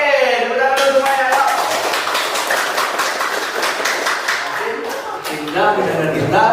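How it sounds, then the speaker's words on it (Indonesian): A school class claps hands together in a dense burst of overlapping claps lasting several seconds, mixed with children's voices and a teacher talking. "tepuk tangan semuanya"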